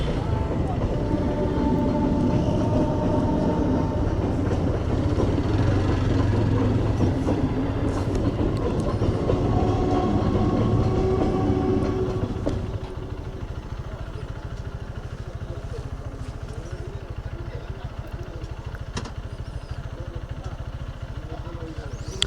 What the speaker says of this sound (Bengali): তো এই যে ট্রেন যাচ্ছে।